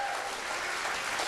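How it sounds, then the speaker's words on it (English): A TV studio audience claps for a judge in a brief, continuous burst of applause, even and fairly distant, with no pause. "My man, Jagger Rizza, round of applause for him, please."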